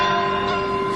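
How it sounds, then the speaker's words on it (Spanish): Church bells ring in Mexico to call people to Sunday mass. A brief, loud, sustained ringing tone with no voices. "toca las campanas."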